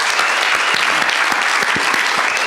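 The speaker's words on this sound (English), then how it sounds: "So that deserves a round of applause, I think" Full, loud applause fills the room at an inclusion event, many hands clapping densely and continuously with a few sharper claps standing out, no voices over it.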